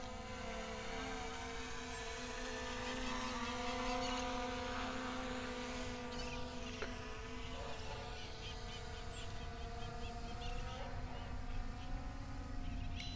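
An SJRC F22s 4K Pro drone flies overhead outdoors, its faint steady propeller whine holding a few tonal lines over a broad airy background, distant and even, with a brief bird call.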